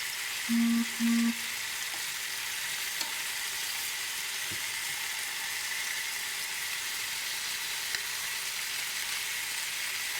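Chicken drumsticks sizzle on a grill just after being turned, a steady broadband frying hiss that holds at an even level throughout, with two short tonal beeps near the start.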